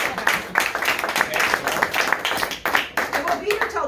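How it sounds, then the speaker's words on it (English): Applause from a small audience at a talk, individual claps distinct and fairly close, uneven in rhythm, with voices mingling among them. "let's give a big round of applause for Paul."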